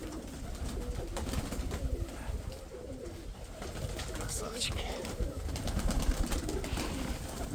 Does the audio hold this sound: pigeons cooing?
yes